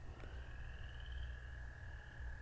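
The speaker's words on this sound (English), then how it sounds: "I want to let you guys hear the call of this American toad." An American toad gives a long, steady high trill that holds unbroken right through, fairly close and outdoors over a low background rumble.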